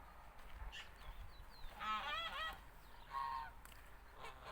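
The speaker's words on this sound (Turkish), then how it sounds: "Kazlar da orada yatarlar" Geese honk in a few short bursts of several nasal calls each, moderately distant, over faint outdoor background noise with no talking.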